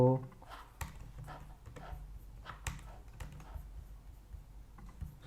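A computer keyboard is typed on in short bursts of soft, close clicks, with quiet pauses between them and no talking over the keystrokes.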